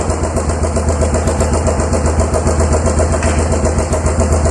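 A Yamaha Big Bear ATV engine idles loud and close with a steady pulsing chug as the rebuilt clutch eases it into first gear, no voices over it.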